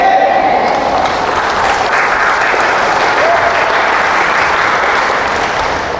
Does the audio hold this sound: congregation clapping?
yes